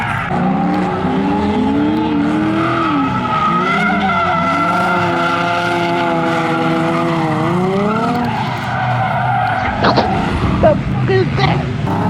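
A stock Nissan 350Z drifts with loud, wavering tire squeal and a revving engine that rises and falls throughout, ending in a few sharp bursts.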